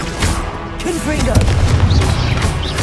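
Hogwarts Legacy Confringo blasting spell explosions sound as loud, rumbling booms with crackling bursts that fill the whole moment, layered with other spell effects and a shouted incantation.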